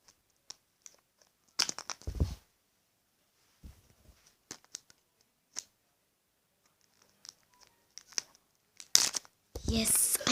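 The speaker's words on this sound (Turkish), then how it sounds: "O yüzden şimdi arkadaşlar ben makas getireceğim" Large scissors cut and rip open a surprise gift package in scattered snips, tears and crinkles, close and sharp, ending in a louder ripping burst, with brief talking.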